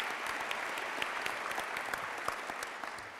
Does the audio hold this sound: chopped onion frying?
no